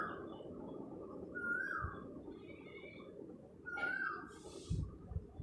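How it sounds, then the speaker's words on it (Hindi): A koel and small birds call in the background of a village, with faint whistled notes rising twice over a low, steady ambient murmur. "शायद आपको पीछे से कभी कोयल का, कभी और नॉर्मल छोटा छोटा चिड़िया का भी साउंड हो सकता है सुनाई दे रहा हो"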